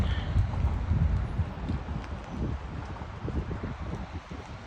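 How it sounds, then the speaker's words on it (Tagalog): Rain falls outdoors in Windsor on a cold evening, a steady low rushing hiss mixed with wind buffeting the microphone, loudest at first and easing slightly, with no voices. "Umuulan ngayon dito sa amin sa Windsor."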